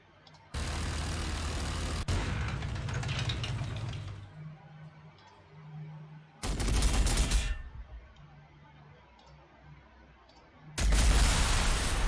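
Lascannon fire in the video game Warhammer 40,000: Sanctus Reach comes as three loud, harsh blasts of a few seconds each, the first longest, separated by quieter rumbling battle ambience, with no talking.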